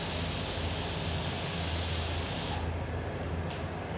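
A spray gun sprays pastel denim blue polyurethane paint with a loud, continuous airy hiss; the top of the hiss cuts out partway through while a lower rush carries on.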